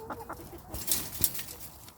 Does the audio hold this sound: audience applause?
no